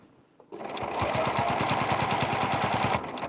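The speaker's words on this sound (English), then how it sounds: "So now we go back to the sewing machine, and I'm stitching in the ditch between the white." A sewing machine stitches in the ditch of a quilt, starting after a brief quiet moment and running in a fast, steady mechanical rhythm of close, even needle strokes for almost three seconds before slowing.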